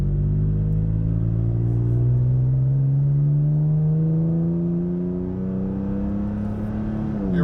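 A Toyota Tacoma pickup accelerates on the road toward about 55 mph, its engine a loud, close, steady drone whose pitch climbs gradually throughout, with no talking.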